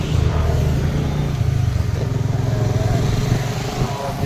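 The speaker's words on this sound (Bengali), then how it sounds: "যাচ্ছে বাইক নিয়ে" A motorcycle rides past close by on an outdoor road, its mid-pitched engine rumbling loud and steady for a few seconds before fading slightly at the end.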